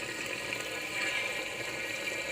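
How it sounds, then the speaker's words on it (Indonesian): A koi pond waterfall splashing water, a steady close rush of falling and splashing water with no pauses or talking. "Itu ada waterfall guys."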